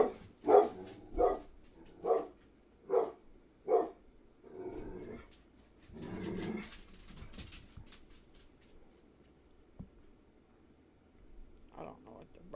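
Dogs bark indoors in a short burst of five or six loud, evenly spaced barks, then a quieter growl-like stretch and long near-silence, with one more faint bark at the end.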